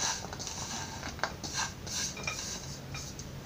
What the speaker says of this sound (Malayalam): ഇതെല്ലാം കൂടെ നന്നായിട്ടൊന്ന് ഇളക്കിയെടുക്കാം